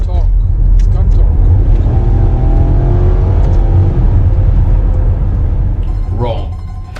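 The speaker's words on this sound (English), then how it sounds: "that magnificent soundtrack of the engine makes it feel faster" A Maserati Quattroporte S with its 4.7 V8 roars as it accelerates, the engine note climbing steadily in pitch, loud and close from the cabin, easing off at the very end.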